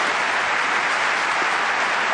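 An audience at a memory and brain talk breaks into steady applause, a dense, even wash of clapping that carries at a constant level throughout.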